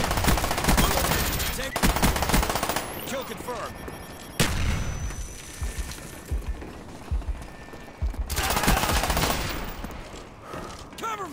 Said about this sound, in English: The Uzi really made no sense to use because of its terrible recoil. You might as well just hip fire.